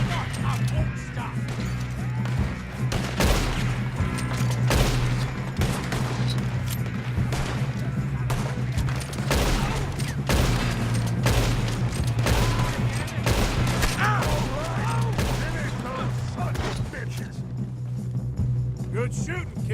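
Heavy gunfire rages through a Red Dead Redemption 2 shootout, with dense, irregular volleys of shots and crashes over a steady low rumble of game music and ambience, and sustained loudness throughout.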